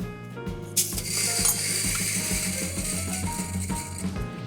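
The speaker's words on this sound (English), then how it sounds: "I'm going to go ahead and grind it." A coffee grinder grinds 30 grams of coffee beans to a medium grind, producing a steady close whirring, rattling mechanical drone that runs continuously throughout without speech.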